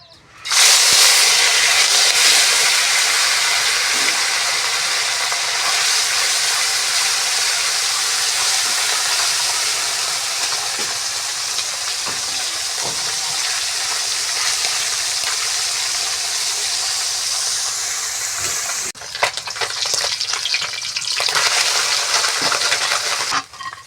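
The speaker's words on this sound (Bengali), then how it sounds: "মাছগুলো সুন্দরভাবে ভাজা হয়ে গেছে" Turmeric-dusted fish frying in hot oil in a heated wok: a loud, steady, dense sizzle that hisses on without a break for nearly the whole stretch, easing slightly near the end.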